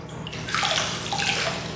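Hot spring water sloshes and splashes as it is scooped by hand in a small private bath beside a courtyard, the bath filled with smooth sodium bicarbonate spa water; close, steady watery swishing with no talk.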